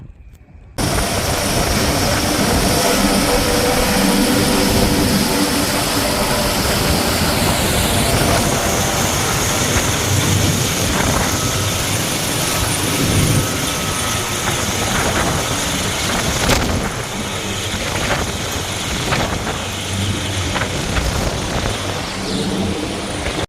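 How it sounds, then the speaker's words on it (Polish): A helicopter starts up and takes off in a video game, with a steady, loud engine and rotor roar running continuously for over twenty seconds and no talk over it. "musiałem chwilę poczekać zanim ten helikopter wystartuje"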